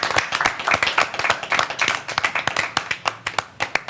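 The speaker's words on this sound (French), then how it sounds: "On applaudit." A small studio audience at a French-language sports television show claps, sharp individual hand claps that start dense and thin out into distinct, spaced claps toward the end.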